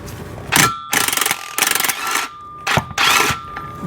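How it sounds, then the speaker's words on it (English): An impact wrench works bolts loose under a Mercedes W210 during M112 V6 removal, firing in several short rattling bursts separated by brief pauses, close and loud. "And then just run our impact"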